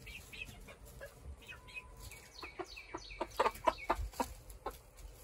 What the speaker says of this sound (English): We got chickens, but the chickens don't want to leave the roost.